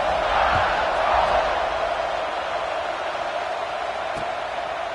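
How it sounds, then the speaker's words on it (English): A football stadium crowd roars steadily before a kickoff, a loud, continuous wash of cheering and voices that swells slightly early and holds for the whole stretch. "this crowd is feeling themselves after that last drive."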